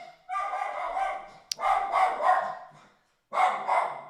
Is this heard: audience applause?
no